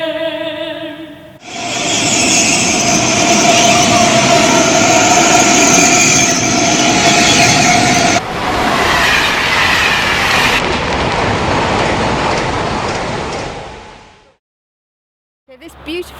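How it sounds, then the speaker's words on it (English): Train on the Chiltern line rushes past close by: a loud, steady roar and rumble lasting several seconds, easing partway through and then cutting off abruptly into silence. "Perfectly good train with loads of capacity"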